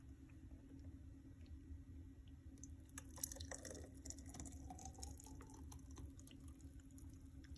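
Banana chia seed smoothie with almond milk poured from a Ninja blender jug, faint wet dripping and soft liquid splashes against a low steady background hum.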